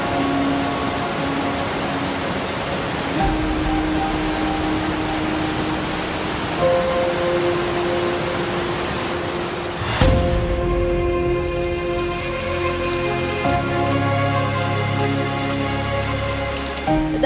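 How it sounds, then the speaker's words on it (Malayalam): Heavy rain pours steadily beside the rushing Kalladi river, a dense, loud hiss of drops on surfaces throughout, with a faint low tone shifting under the downpour. "മഴ കനത്താൽ ആർത്തലച്ചൊഴുകും കള്ളാടിപ്പുഴ"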